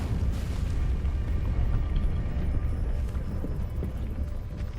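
An Incendio fire spell is cast in a Harry Potter video game, a dense, steady roaring rush of flame that fills the whole stretch with a low, rumbling whoosh.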